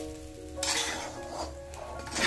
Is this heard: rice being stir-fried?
yes